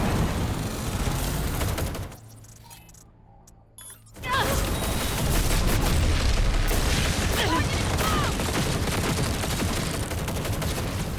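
In a shooter video game on very hard difficulty, loud bursts of gunfire and explosive booms fill the scene, drop out briefly into a muffled lull, then return with heavy sustained firing and blasts while voices shout.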